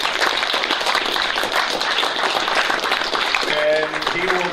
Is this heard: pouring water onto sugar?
no